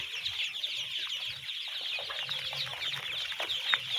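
Ducklings kept under red heat lamps that run around the clock make a dense, continuous chorus of high peeping and cheeping, steady and fairly close throughout.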